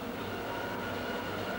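Train rumbling along the rails near Hua Lamphong, a steady mid-level roar of wheels and carriages with a low hum, continuous and without voices.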